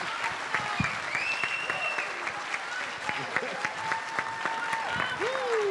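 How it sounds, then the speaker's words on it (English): Audience applause at a screening event for a documentary, moderately loud clapping that runs throughout, with whistles and cheers rising over it and some voices mixed in. "Give them all a round of applause, please."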